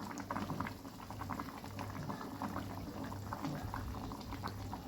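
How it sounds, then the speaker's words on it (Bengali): Fish curry with new potatoes at a steady boil in a pot, a continuous bubbling simmer with soft popping bursts, close and even throughout. "আমি অল্প একটুখানি ফুটিয়েই মাছের ঝোলটা নামিয়ে নেব।"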